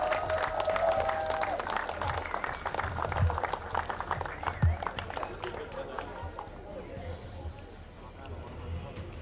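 Audience applause at a kart racing awards ceremony, a steady wash of clapping mixed with crowd murmur and voices, with a few louder claps standing out and the sound easing toward the end.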